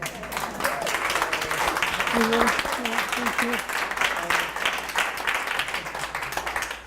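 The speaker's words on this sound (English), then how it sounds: "one more round of applause for the artists" An audience claps after a closing lecture at an art exhibition. The steady round of applause runs throughout while someone speaks briefly over it.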